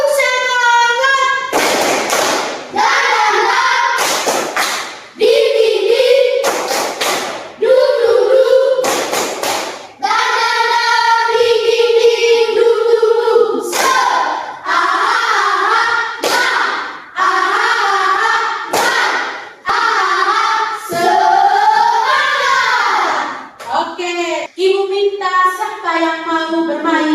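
Rhythmic classroom 'tepuk semangat' spirit clapping led by a pupil, with bursts of group claps alternating with children's chanting voices, loud and close throughout.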